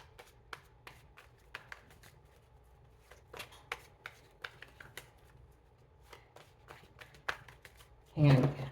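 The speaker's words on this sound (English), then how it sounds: "when I was shuffling" Playing cards shuffled in soft repeated riffles and taps, faint and close, beneath a person talking, ending with a louder burst of handling.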